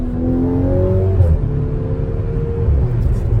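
A VW Golf 6 R tuned to Stage 2+, driven in sport mode with paddle shifts, produces a loud, close engine drone with rising and falling revs; distinct crackles or pops are not clearly separated from the rumble.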